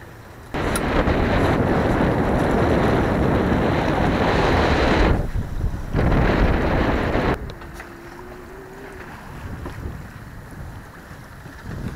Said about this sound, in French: Des petites rafales qui tournent autour de 18-20 nœuds.